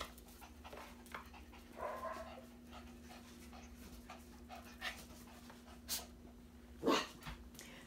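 A little red curly puppy pants softly and lets out a couple of faint whimpers, close by in a quiet room, with a steady low hum underneath and no talking.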